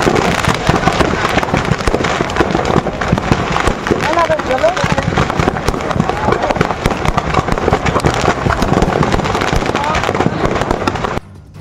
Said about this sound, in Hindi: ट्रक से इसी तरह आतिशबाजी की आवाजें आती रहीं